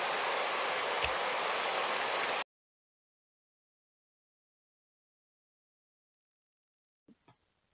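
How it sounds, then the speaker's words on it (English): Currents on the River Ayr churn the water into foam, a loud rushing wash for about two seconds that cuts off into near silence, followed by a couple of faint knocks. "creates water currents that whip up the water, making masses of bubbles"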